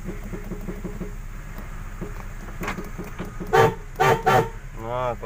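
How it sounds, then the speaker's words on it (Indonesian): Horn of a 1994 Suzuki Vitara sounding in several short honks near the end, after a stretch of idling engine and workshop noise. "Nah, klakson juga masih hidup."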